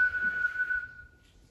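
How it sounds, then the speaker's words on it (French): A single steady, high-pitched whistled note held for about a second, close and clear, fading out into quiet at the end. "Et puis, je vais enchaîner avec un sifflement."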